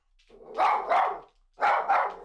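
A poodle barks excitedly on a leash at a visitor at home, two close double bursts of loud, sharp barking with a short pause between.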